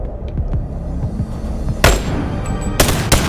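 Gunfire in the VR shooter Boneworks: three sharp, loud shots ring out, one alone and then two close together, over a steady, rumbling game background.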